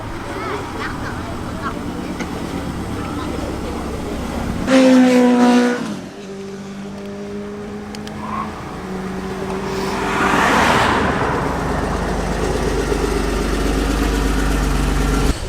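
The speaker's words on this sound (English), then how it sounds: "Another TVR arrival." A classic TVR sports car arrives at a car meet, its engine rumbling at idle, briefly revving with a rising tone, then settling and swelling again close by, with people talking over it.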